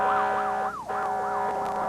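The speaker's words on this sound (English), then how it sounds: "As we rolled the siren" A police car siren wails loud and close, its pitch sweeping up and down in a steady repeating cycle for about two seconds with no voices over it.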